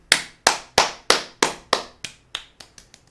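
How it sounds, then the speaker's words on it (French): Someone claps with their fingertips about a dozen times in a row, crisp, close taps that speed up and fade toward the end, with no talking. "J'applaudis du bout du doigt."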